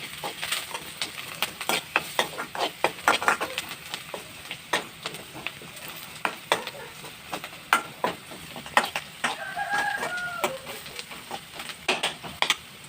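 Spices with curry leaves and turmeric powder being stirred in a hot cooking pan: rapid, irregular clinks and scrapes of a spoon against metal over a low sizzle, busy and close throughout, with no speech.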